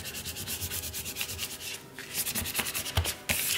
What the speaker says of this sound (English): Scrape it on really well.